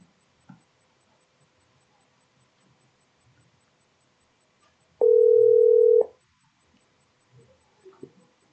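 A PC-to-mobile phone call produces a single steady electronic tone lasting about a second, loud against near silence, with a few faint clicks before and after it.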